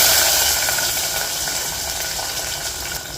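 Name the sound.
onion sizzling in oil with shahi jeera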